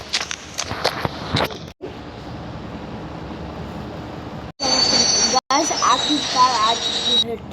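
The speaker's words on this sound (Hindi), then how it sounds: "आखिरकार आ चुकी है ट्रेन।" A train pulling in within a mobile 3D game, with rumbling rail noise, short gaps, then a loud stretch of high metallic wheel squeal and screech up close.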